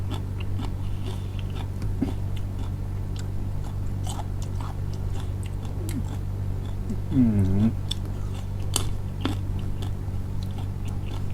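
Someone bites and chews crunchy raw purple eggplant, eaten fresh with a shrimp-paste chili dip. Soft, close crunches sit over a steady low background hum, and a sharper crunching burst comes near the end.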